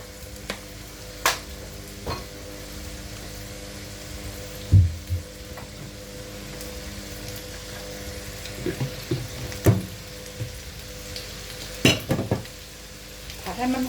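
Ingredients with Chinese sausage are stir-fried in a pan, a low steady sizzle broken by repeated sharp scrapes and knocks of the spatula at irregular intervals.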